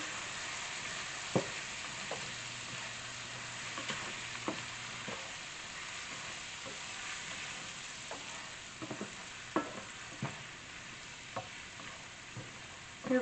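A pan cooks ingredients for roasted salmon with pancetta and Swiss chard, giving a steady low sizzle with scattered utensil taps and scrapes throughout.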